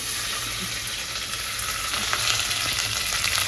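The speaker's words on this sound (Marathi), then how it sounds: "मी आता तेल टाकून घेतलंय कांदा टाकते" Chopped onion sizzles in hot oil for a Khandeshi-style mutton dish, a loud, continuous crackling fry with bright spitting pops, close up and without talk.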